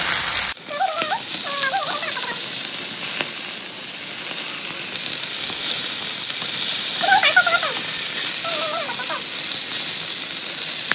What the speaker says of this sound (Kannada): ಇದು ಇವಾಗ ಫ್ರೈ ಆಗ್ತಾ ಉಂಟು